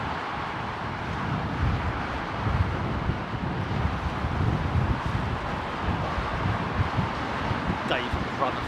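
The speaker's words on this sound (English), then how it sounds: "the winds are blowing again, look." Steady wind at Heathrow Airport roars and buffets the microphone throughout, with broad low rumbling gusts and a faint voice or brief higher sound near the end.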